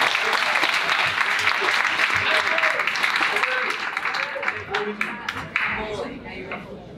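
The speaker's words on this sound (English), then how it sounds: "So we can give him a round of applause." Audience applause at a school sports award dinner fills the hall for an absent MVP, steady and full at first, then thinning into scattered claps and crowd murmur.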